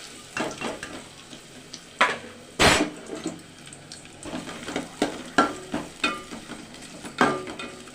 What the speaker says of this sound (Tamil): சூப்புக்கு வந்து சின்ன வெங்காயம் பச்சை மிளகாய் போடுவோம்.